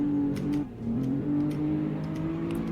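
Maserati Ghibli engine held in second gear during a handling test, revving steadily with a strong droning tone that dips briefly then climbs back, loud and close with no talk.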